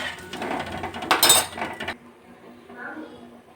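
A plate set over a pot of water coming to the boil for upma lands with a brief, bright metallic clink. Softer rattling comes before it, and a quiet low background follows.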